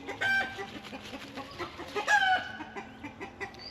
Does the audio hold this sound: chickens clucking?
yes